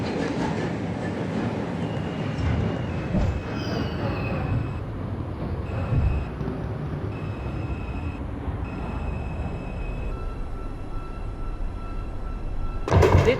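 A New York subway 4 train rides between stations, a steady loud rumble of wheels and car body with a high whine and squeal tones, a brief burst of clatter near the end.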